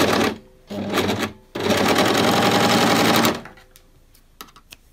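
Sewing machine stitching trousers, in two short loud runs and then a longer continuous burst of rapid needle strokes, close up, fading to light handling noises with no talk.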